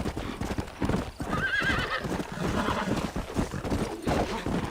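A horse gallops in Red Dead Redemption, its hooves thudding in a quick steady rhythm with a neigh partway through, loud and close over other game sounds.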